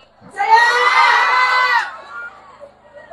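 A political rally crowd in Sandakan erupts in a short, loud burst of massed shouting and cheering that lasts about a second and a half and then fades.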